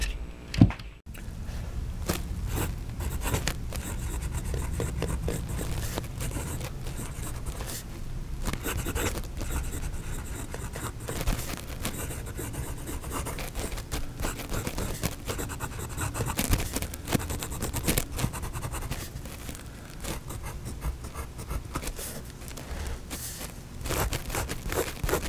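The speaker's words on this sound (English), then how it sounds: "So let's see how this glitter ink works in this nib." Fountain pen with a fine nib, filled with glitter ink, scratching steadily across paper: continuous soft rubbing strokes heard up close for the whole stretch, with no talking.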